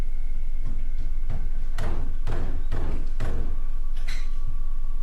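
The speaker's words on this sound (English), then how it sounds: "The banging then continues all over again, signifying that the figure is still lurking." Heavy banging from a basement, a run of loud dull thuds spaced roughly half a second apart with a few fainter knocks before and after, heard alone over a low steady hum.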